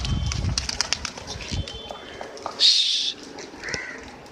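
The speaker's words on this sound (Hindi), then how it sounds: "तो फ्रेंड्स अब सबको उड़ाते हैं।" A flock of Gola pigeons in Karachi is released to fly, with a sudden loud burst of flapping wings in the middle, set against scattered bird calls and background voices.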